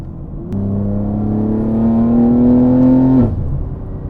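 A 700 hp BMW G80 M3 Competition accelerates hard, its engine note surging in and climbing steadily in pitch for about three seconds before cutting off sharply, loud and close.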